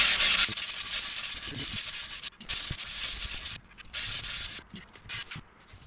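Steady abrasive rasping from sanding an Axis ART series hydrofoil, close and fairly loud, in repeated strokes with brief pauses between passes.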